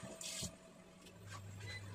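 A small splash of water goes into a hot pan with oil and salt while vegetables are stir-fried, giving a brief hiss near the start before quieter kitchen sounds over a low hum.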